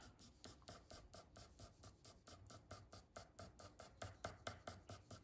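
Soft, rhythmic scratching of a pencil on paper, repeated strokes in a steady back-and-forth pattern, close up and quiet with no voices.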